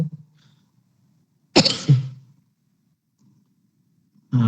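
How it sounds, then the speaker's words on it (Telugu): A person with a cold coughs sharply a couple of times close to the mic during a Telugu Bible study talk, with quiet pauses between and another cough starting at the end. "కొంచెం కోల్డ్ గా ఉందండి, దగ్గు వస్తుంది"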